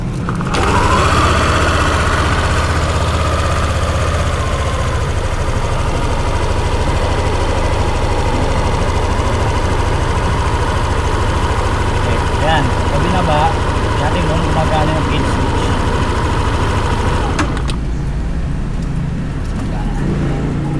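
A Yamaha Nmax V2 scooter engine runs at a steady idle for about seventeen seconds after starting, a loud continuous low hum close by, then cuts off abruptly near the end.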